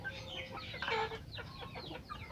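Chickens clucking nearby on a small poultry farm, several short rapid calls overlapping in a quiet, steady stream with faint background noise.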